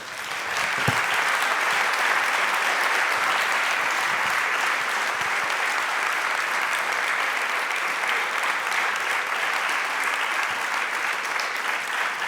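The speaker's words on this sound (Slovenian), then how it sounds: "Še lahko ploskamo za prvo mesto med osnovnošolci." Audience applause at a school awards ceremony for first place, steady sustained clapping from a large crowd, loud and even from start to finish.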